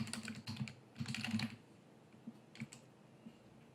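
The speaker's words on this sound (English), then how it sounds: "I would just simply click on here and then type deep learning" Typing on a computer keyboard, quick close clusters of key clicks in two short bursts followed by a few isolated taps, no voices.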